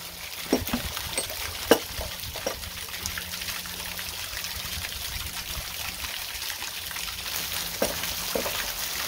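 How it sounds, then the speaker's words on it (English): Steady rush of water from a waterfall running strongly, a continuous broadband wash with a few sharper splashes and drips standing out near the start. "waterfall going strong"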